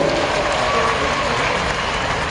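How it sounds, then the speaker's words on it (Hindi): Audience applause welcoming Gadkari at a public event in Rewa, a dense continuous clatter of many hands filling the whole moment with crowd noise. "एक बार ताली बजा के स्वागत करो गडकरी।"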